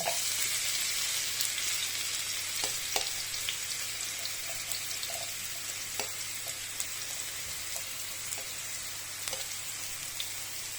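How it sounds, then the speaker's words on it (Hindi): Steady hissing sizzle of ground onion frying in cooking oil, with scattered light taps and stirring sounds, no voices. "कुकिंग ऑयल डाला है, प्याज मैंने ग्राइंड कर लिया, ये इसके अंदर मैं डालूंगी"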